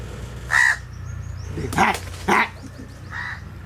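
Crows cawing near mango trees, a few short harsh calls spaced out across a rural outdoor scene with quiet background hum.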